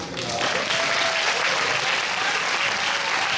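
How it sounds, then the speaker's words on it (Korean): Audience at a 2024 school STEM festival clapping in thanks, a dense, steady wash of applause from a crowd lasting a few seconds, with no voices over it. "선생님께 정말로 감사의 박수 부탁드리겠습니다"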